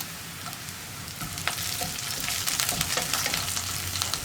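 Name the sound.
curry leaves sizzling as added to hot oil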